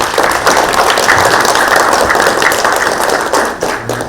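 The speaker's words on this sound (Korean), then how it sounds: "환영의 박수 부탁드리겠습니다." An audience applauds to welcome a guest speaker at a political talk event, steady dense clapping from many hands throughout, loud and close.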